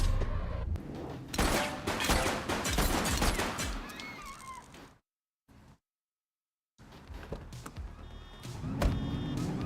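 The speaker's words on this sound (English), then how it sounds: "She's shooting!" Video game gunfire during a police chase after a stolen car, dense, loud bursts of shots and engine noise, then a brief silence, then more scattered shots and vehicle sounds.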